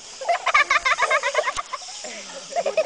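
Turkeys and other ground fowl gobble in a quick rhythmic run of calls at close range, a dense burst followed by a short pause and a few more gobbles, with no talking.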